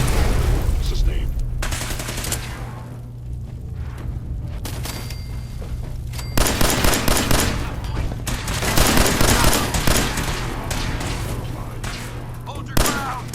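Sustained gunfire erupts in Fallout 4 as bursts of shots crackle over a steady low hum and game ambience, growing denser and louder in the second half, with a final heavy thump near the end.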